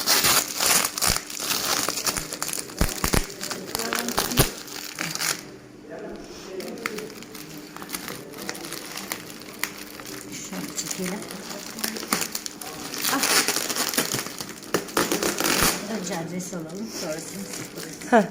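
A plastic-wrapped parcel being opened, with repeated crinkling and tearing of plastic wrap in close, uneven bursts while people talk throughout.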